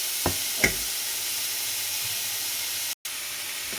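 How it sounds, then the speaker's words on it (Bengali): Boiled pasta drops into a pan of frying broccoli and capsicum: two quick clunks, then a steady, even sizzling hiss that continues alone. "ব্রকলি আর ক্যাপসিকামটাও ভাজা হয়ে গেছে, তো এটার মধ্যে এবার আমি বয়েল করা পাস্তাটা দিয়ে দেবো।"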